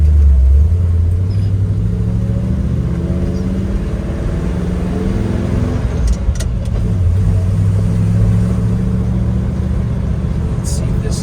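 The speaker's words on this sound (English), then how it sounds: "Starting out in second, like I normally do." A 1972 Ford F-250 Ranger 4x4 pickup with a four-speed manual pulls away in second gear, its engine a loud, close, steady low rumble that rises in pitch with a few light clicks inside the cab.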